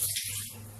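Water pours steadily into a pan while shrimp rad na sauce is being made, a continuous broad rush running the whole short moment at close range with no talk over it.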